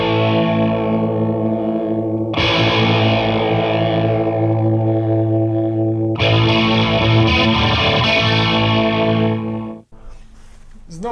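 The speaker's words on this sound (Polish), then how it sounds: "No i zobaczmy sobie tą symulację Univibe'a." An electric guitar plays through the CaLine Lucky 7 modulation pedal on its Univibe simulation, giving sustained, warbling distorted chords in two long strums, loud and alone, with a brief pause near the end.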